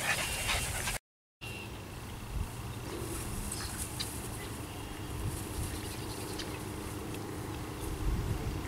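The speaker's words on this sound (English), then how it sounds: "Happy puppies." Nine-week-old puppies whimper and yip in short, scattered bursts outdoors, with steady background noise and a brief dropout near the start.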